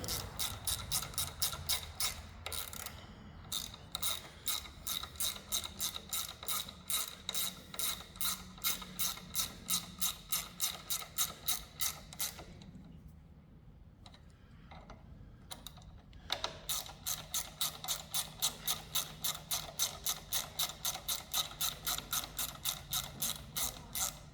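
Rapid metallic clicking of a ratchet wrench tightening a bolt on a John Deere GX255 riding mower, steady runs of close, loud clicks that pause briefly midway before resuming at the same brisk rhythm.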